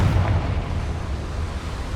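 A Confringo fire spell from Hogwarts Legacy bursts with a deep, booming explosion at the start. The boom then fades into a low rumbling tail, with no voices.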